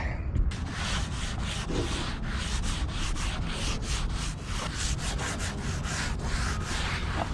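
A Scotch-Brite pad rubs steadily over a wooden ship's wheel in quick repeated strokes, a close, continuous scratchy sanding sound with no voices.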